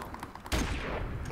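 Continuous gunfire in Modern Warfare Remastered, a crossfire team match, starting abruptly after a quieter lead-in and holding as a loud, dense burst of shots to the end, with no talk.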